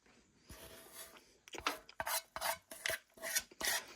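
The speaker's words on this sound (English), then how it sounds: "Get that last bite scraped in here." Spoon scraping the last bite of oatmeal from a Mountain 24-hour ration MRE pouch, a series of short, close rasping strokes in an irregular rhythm, with no talking.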